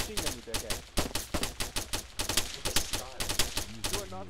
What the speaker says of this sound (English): You have a machine gun